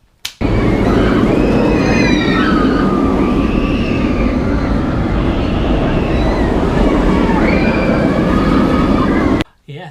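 Nemesis Inferno roller coaster at Thorpe Park thunders past in a loud, continuous roaring rush of wheels and wind, with riders' screams rising over it before the sound cuts off abruptly.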